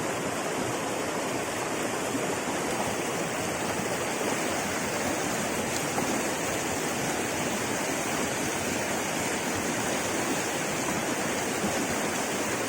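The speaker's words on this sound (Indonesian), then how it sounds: "Menyeberang sungai guys." Steady broadband rush of a river stream flowing during a river crossing, continuous and fairly loud throughout with no talk over it.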